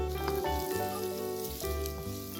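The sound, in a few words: sizzling of spring onions cooking with chilli garlic prawns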